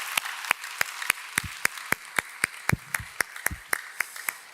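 Sparse, slow clapping from a few people at a church service, sharp individual claps spaced roughly evenly, fairly close and moderately loud.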